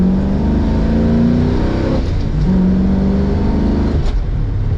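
A 1960s Ford Mustang's 289 cubic inch (4.7 liter) V8 revs loudly and steadily up close, with the engine tone rising and falling in a couple of throttle swells.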